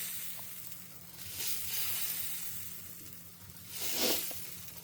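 Adai batter, spread fairly thick, sizzles in oil on a hot pan, giving a steady soft crackling hiss that swells in waves and ends in a brief louder burst near the close, with no talking.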